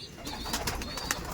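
Pigeons coo in a loft of big-sized Kaldom and Laldom birds, a few soft close calls over quiet background rustle, with no speech.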